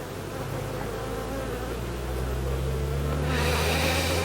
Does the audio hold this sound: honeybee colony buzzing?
yes